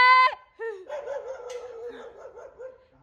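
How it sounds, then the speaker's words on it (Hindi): A dog barks and yelps indoors, a loud high cry followed by a string of whining, howling yips close by, with a voice briefly mixed in. "ये किसका है कुत्ता"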